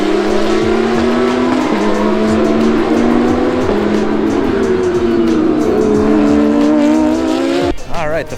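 Porsche Cup race cars on track during a practice session at the Montreal Canadian Grand Prix, loud roaring engines climbing through gear changes one after another, with tire squeal and close, continuous noise throughout.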